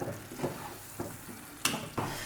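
Banana halwa is stirred in a pan as it thickens into a ball with oil separating: quiet, soft scraping strokes with faint sizzling and a few light clinks of the spoon, no voices.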